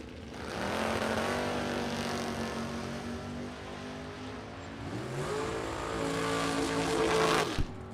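Chevrolet Malibu and Chevrolet Camaro launching side by side at a drag strip, engines roaring up through the gears in a loud sustained run, a second engine rising partway through, then cutting off near the end.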